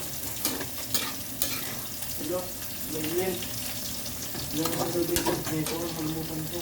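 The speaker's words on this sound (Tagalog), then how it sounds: "Kailangan talaga haluin kasi tumitigas yung ilalim" Chicken stirred in tomato sauce in a pan gives a continuous wet scraping and bubbling sizzle, fairly close and moderate in volume, with faint voices in the background.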